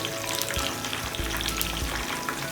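Mixed vegetables sizzle and fry on a hot tawa, a steady close crackling hiss with low stirring bumps throughout, no voices.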